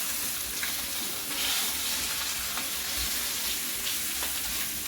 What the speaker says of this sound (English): all we're doing at the moment is sealing the chicken